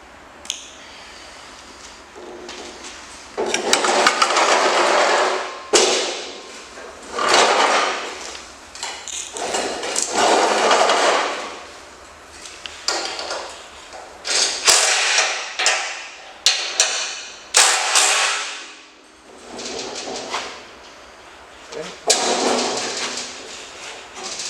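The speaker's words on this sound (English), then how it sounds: "you can now raise the dock, and then you can tighten it there" Tightening bolts on Beach King dock legs at a lake gives a run of loud metallic clanks and scraping bursts with short pauses between them, close by and with no talk.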